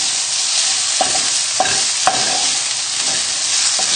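Bacon frying over high heat in a pan sends up a loud, continuous sizzle, broken by several sharp scraping knocks as the pieces are stirred and moved about.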